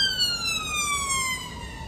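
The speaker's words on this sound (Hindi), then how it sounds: "एम्बुलेंस पार हो रहा" An ambulance siren wails past on a UK street, a steady loud two-tone sweep with its pitch gliding downward as it moves away, over low traffic rumble.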